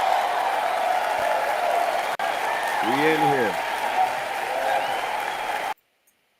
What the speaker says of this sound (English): They're cheering for me.